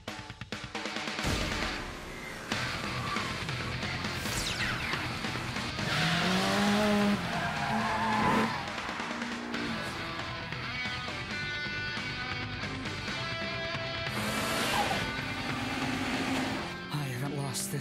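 Anime street-racing cars on the Akagi mountain pass, with roaring engines, rising and falling revs and tire squeal over a music score, and voices talking in places.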